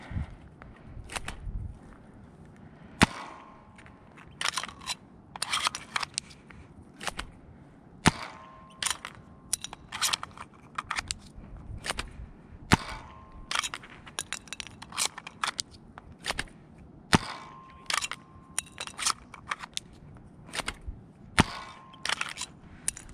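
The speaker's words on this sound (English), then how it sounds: "now I've loaded up all of my rival buckshot rounds. So I've got eight of these, and let's get some spread downrange." Rival buckshot rounds fired from a shotgun downrange on an outdoor range, eight sharp cracks spaced irregularly among handling clicks and shuffling, fairly close and loud with no talk.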